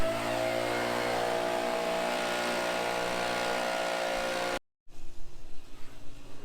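A leaf blower clears dust out of a farm shop, a loud, steady engine whoosh that holds for several seconds, then cuts off abruptly and gives way to quieter, uneven clatter.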